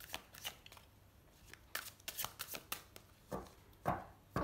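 Tarot cards being shuffled for a cross spread, with quiet papery riffles and sharper card slaps in bursts, separated by brief pauses and no voice.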